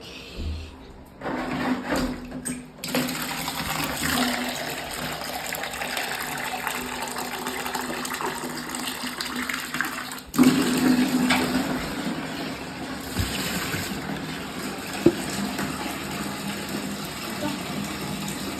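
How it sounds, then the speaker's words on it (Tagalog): A faulty washing machine that drains even with the drain switched off: water gushes and drains steadily with a pump-like hum running underneath, a few clunks and a brief louder surge partway through. "Testing na natin guys kung may nagdi-drain na sa nagdi-drain pa ba"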